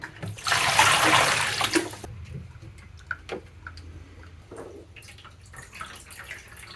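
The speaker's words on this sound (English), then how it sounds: "And now I'll start to rinse and wash." Water gushes loudly from a tap for about two seconds while rinsing and washing a selenium-toned photographic negative, then drops to quieter drips, trickles and small splashes.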